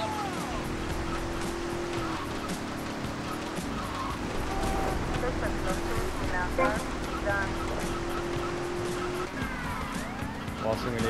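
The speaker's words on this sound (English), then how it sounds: "there's a police car knocking us off the track." A police car siren wails in the video game GTA Vice City during a street race, mixed with car engines and tire skids in a dense, loud soundscape.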